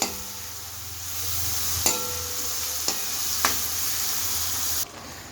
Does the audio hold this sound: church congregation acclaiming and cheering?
no